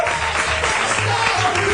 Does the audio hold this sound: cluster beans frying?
no